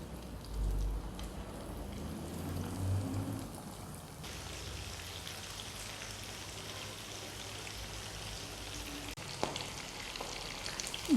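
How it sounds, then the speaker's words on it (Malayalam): Stuffed mussels frying in hot coconut oil give off a steady crackling sizzle, close and moderately quiet, with a brief clatter near the end. "നമുക്കിത് പൊരിക്കാം."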